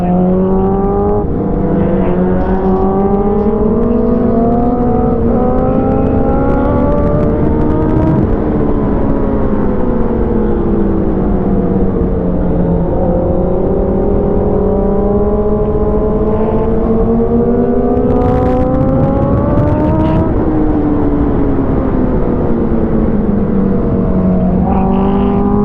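A Honda CBR1000RR sport bike ridden uphill on the Marilaque mountain road, its engine note steady and close with rising and falling revs throughout, wind rushing underneath.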